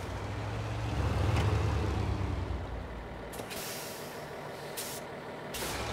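Truck in the SnowRunner video game, with a loud air brake hiss and steady engine rumble as it reverses, followed by several short, sharp bursts of air release.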